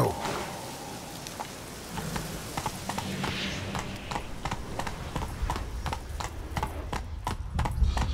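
Horse hooves clip-clop steadily in The Witcher 3, a rhythmic run of hoofbeats that builds over a soft ambient bed.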